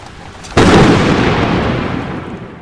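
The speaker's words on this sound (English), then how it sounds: "Rainy night." Rain on a dark night in a Halloween 4 scene arrives as a sudden loud, full burst of wash that sustains, then slowly thins and fades over a couple of seconds.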